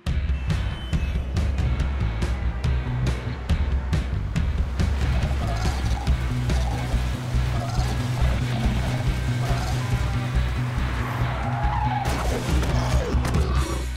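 Car skidding with squealing tires in a cartoon action scene, a loud continuous rush of tire and engine noise lasting many seconds with a few sharp impacts near the end.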